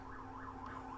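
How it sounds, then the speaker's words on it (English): Faint emergency sirens somewhere in the distance, a soft wailing tone rising and falling in regular sweeps, heard alone without talk. "Apology for the sirens in the background if you can hear that"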